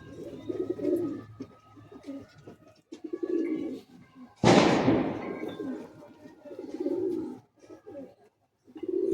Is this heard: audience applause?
no